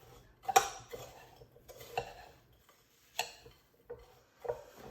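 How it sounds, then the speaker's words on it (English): Spoon scraping and tapping in a bowl as graham cracker crumbs are stirred together with melted butter, a few sharp clinks at irregular intervals over a quiet background. "And then we're gonna mix this around till everything"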